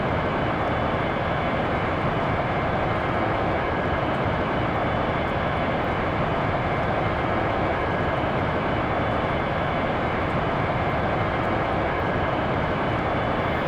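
An airplane engine in a flight simulator video game drones with a loud, unbroken roar that stays constant for the full length, with no talking.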